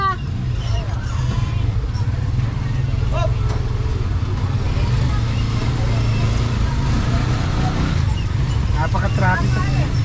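Heavy street traffic rumbles constantly with low engine drone from cars and other vehicles. People talk and chatter nearby over the continuous road noise.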